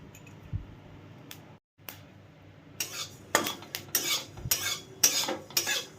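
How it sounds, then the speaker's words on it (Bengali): White sesame seeds are dry-roasted in an empty wok: a quiet start, then a series of loud, close rattling scrapes and stirring strokes of a spatula against the metal. "এই খালি কড়াইতে তিলটাকে একটু রোস্ট করে নিতে হবে"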